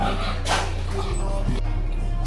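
Dogs in a home kennel barking and whimpering close by over a constant low electrical hum, with brief yips scattered through the short stretch.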